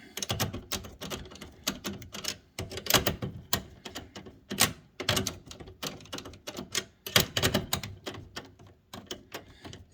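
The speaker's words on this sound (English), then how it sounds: "we're going to tighten this bracket back down" Bolts on a Stern 007 pinball machine's tank bracket being tightened with a wrench, giving rapid ratcheting clicks and metallic taps in dense bursts, close and fairly loud.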